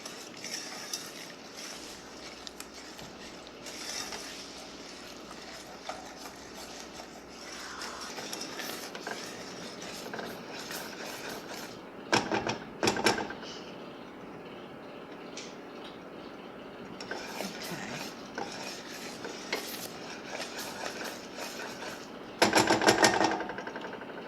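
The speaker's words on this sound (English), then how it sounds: "Stir it all together until it comes to a boil." Butter and granulated sugar are stirred in a pot for Florentine cookies, with a soft rhythmic scraping and occasional clinks of a utensil against the metal. It stays fairly quiet, with a few louder bursts of clattering.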